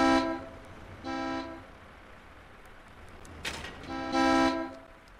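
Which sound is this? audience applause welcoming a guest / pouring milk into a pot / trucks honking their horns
trucks honking their horns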